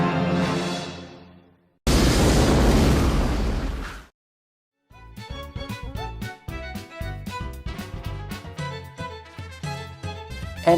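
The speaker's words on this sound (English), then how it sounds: "which then cuts into an explosion" A loud explosion in a film's opening logo cuts in after a fading tone, then drops to silence before punchy music with sharp rhythmic hits begins.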